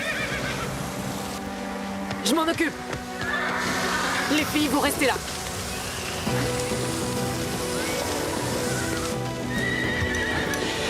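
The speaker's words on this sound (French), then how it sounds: "Les chevaux!" Frightened horses whinnying loudly and repeatedly in a stable during a fire, with hooves clopping and a hiss like rain or spraying water, while people call out over the commotion.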